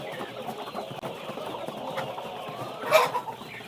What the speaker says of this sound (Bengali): বড় মুরগিগুলা কত সুন্দরভাবে খাবারগুলা খাচ্ছে মারামারি করছে খাচ্ছে